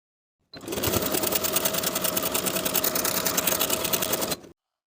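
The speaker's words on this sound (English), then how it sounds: "You can use your regular thread and a longer straight stitch, or use the same top stitching thread that you used for the design, and a triple straight stitch" A sewing machine runs a steady four-second burst of top stitching on stretch denim jeans, close and loud with a rapid even needle rhythm, starting and stopping abruptly with silence on either side.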